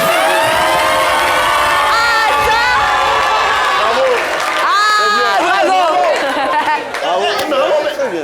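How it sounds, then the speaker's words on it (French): A crowd cheers and whoops loudly over an amplified voice, with a wail of excited shouts rising and falling; some clapping may be mixed in. "Applaudissez pour Jumelle."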